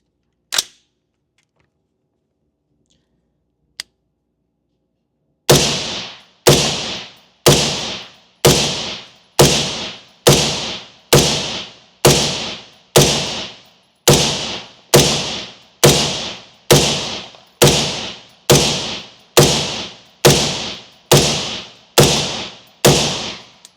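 Daniel Defense MK18 rifle firing: two isolated shots, a pause, then a long string of about eighteen loud sharp reports at a steady, even pace, close up with no talking.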